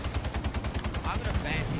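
Rapid rocket launcher fire from a firefight in the video game Halo 5, a dense run of repeated booming shots close up and loud, with a faint voice underneath.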